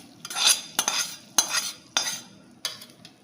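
Cooked rice for mattu pongal variety rice is tipped into a pan of sesame-oil tempering, with four or five close, sharp scraping clinks of a metal spoon against the pan, no talk.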